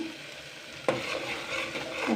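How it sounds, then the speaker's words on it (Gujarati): Tomato and spice tempering sizzles loudly in a hot pan after a sudden hiss at the start, with stirring and steady frying crackle continuing, no voices. "આ તો ખાલી ટમેટાનો વઘાર છે ટમેટાનો મસાલાનો"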